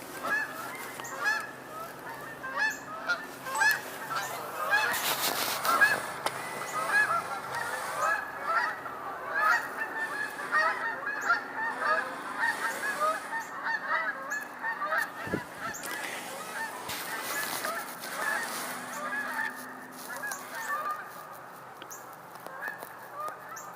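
Flock of geese honking continuously outdoors, many overlapping calls at moderate distance in a busy, uneven chorus, with occasional louder bursts and no voices.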